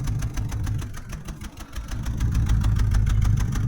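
A Land Rover K-series engine idles steadily with a rough, pulsing chuff from a blowing exhaust, loud and close, holding an even rhythm throughout.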